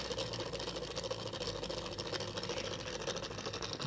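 A small electric motor drives a homemade RC snow blower, giving a steady, continuous buzzing whir with an even level and no talk over it.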